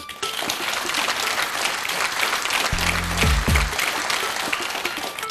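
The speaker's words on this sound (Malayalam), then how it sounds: "ഒന്ന് കൈയടിക്കാമോ?" A studio audience at a televised quiz show applauds for several seconds, a dense steady clatter of many hands, with a short low tonal burst partway through.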